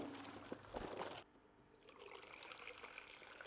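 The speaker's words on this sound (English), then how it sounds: "I'm going to fill that up with hot water too" Hot water runs and pours into a plastic tub for mixing a hydroponic nutrient stock solution, a faint close splashing flow that drops away briefly, then returns as a softer trickle.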